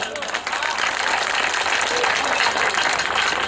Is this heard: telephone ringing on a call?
no